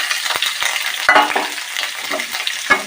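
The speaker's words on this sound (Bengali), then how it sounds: "সব কিছু আমরা ভালো করে ভেজে নেব।" Chopped onions and garlic frying in a pan make a close, busy sizzle broken by a few sharp scrapes and clicks of stirring, with no one speaking.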